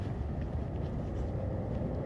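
A low engine rumble from a car nearby, heard as a steady, muffled drone with some wind noise, faint and continuous with no speech.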